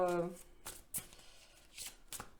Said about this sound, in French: on va tirer d'autres cartes pour voir.